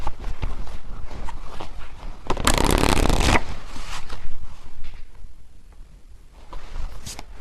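Dense rustling and riffling of tarot cards being shuffled close by, with a loud burst in the middle, then softer handling sounds.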